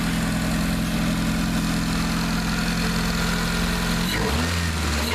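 Swapped JDM Honda Accord engine idling at close range, a steady low hum with even pulses, then a brief shift in pitch and tone near the end.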